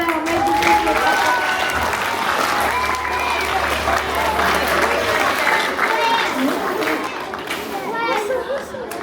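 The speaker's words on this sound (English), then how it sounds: "put your hands together, paki paki mai for all our amazing people." Sustained audience applause at a school sports prize giving fills the hall, steady dense clapping mixed with children's voices and crowd chatter.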